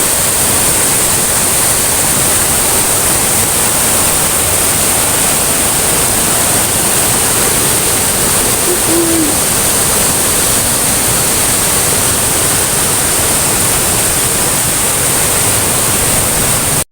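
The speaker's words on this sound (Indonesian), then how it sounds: "tapi di atas kampung sana terlihat air terjun ini ya" Curug Cisaladah waterfall near a village, a loud, constant rushing roar of falling water that fills the whole scene evenly without letup.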